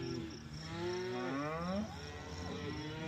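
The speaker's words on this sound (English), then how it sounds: "there's some on the outside coming to check out the new cows" Cattle moo in a ranch pen as newly hauled cows are checked out by others from outside, several overlapping drawn-out calls rising and falling, fairly close and loud with no talk.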